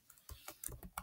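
Quick taps on an Android phone's on-screen keyboard, a handful of soft clicks in uneven rhythm over about a second, close and fairly quiet, with no talking.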